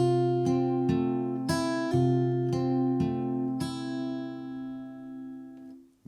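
An acoustic guitar plays a variation on the C section chords, with a series of strummed chords ringing clearly one after another and the last chord sustaining and fading out with no speech.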